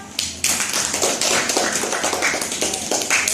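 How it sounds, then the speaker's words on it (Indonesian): Classmates in a classroom clap for a student's answer, a burst of close, uneven hand claps from a small group that keeps up with a lively, slightly ragged rhythm. "Kasih tepuk tangan teman-teman"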